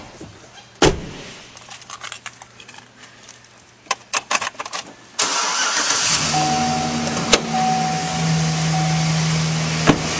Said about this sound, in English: And now we'll go start her up.